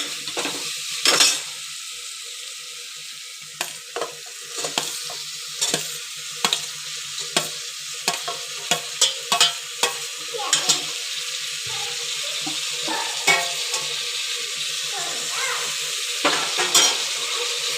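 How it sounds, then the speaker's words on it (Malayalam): Tomatoes for biryani fry in a pressure cooker, a steady loud sizzle running throughout while a spoon scrapes and taps the metal pot in irregular bursts, close by. "നന്നായിട്ട് തുടർച്ചയായിട്ട് നമ്മളിങ്ങനെ ഇളക്കി കൊടുത്തുകൊണ്ടേയിരിക്കണം"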